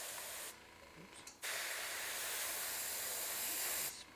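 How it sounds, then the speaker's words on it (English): Dark blue spray paint hissing from an aerosol can in a garage, short sprays followed by a longer continuous hiss of a few seconds, close and loud with no talking. "See if I'll spray a little bit right here so you can see it."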